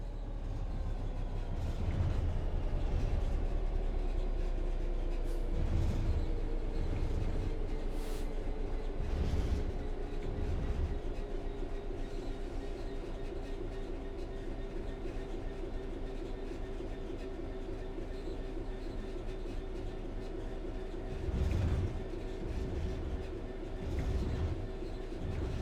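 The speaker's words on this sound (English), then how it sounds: "The train will then coast on level ground, and the train will only slow down very gradually." A train in Train Sim World 3 coasts on level track with a steady rolling hum and a slowly falling whine, broken by periodic rhythmic clunks of wheels over rail joints.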